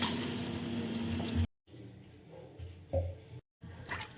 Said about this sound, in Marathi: कोथंबीर धुवून घेते दोन तीन पाण्याने स्वच्छ धुवायची नळ थोडा जोरात केला